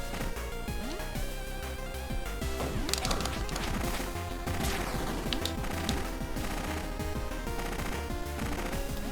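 A turret boss in Heritage: A Dragon's Tale sprays bullets in a dense, steady barrage of rapid shots and impacts, layered over busy game music and effects throughout.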